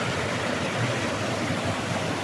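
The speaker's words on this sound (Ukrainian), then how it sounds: "випадково почув просто шум води, вирішив спуститись, а тут такий гарний водоспад." A river waterfall pours in a steady, dense broadband rush of water, continuous and fairly close, with no voices over it.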